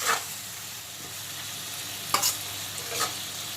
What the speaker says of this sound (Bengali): একসঙ্গে আমি কষিয়ে নেব খুব ভালো করে